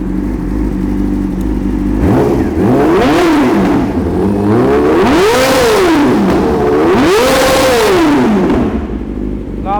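A cold motorcycle engine idles, then revs up and drops back three times in a steady rhythm without stalling, loud and close.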